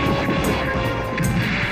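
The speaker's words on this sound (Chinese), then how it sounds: "人类军队正好杀来，飞机大炮对他疯狂宣泄" Military aircraft and artillery strike in a Dragon Ball Z anime battle, a loud sustained engine roar with rumbling blasts and sharp bursts layered throughout.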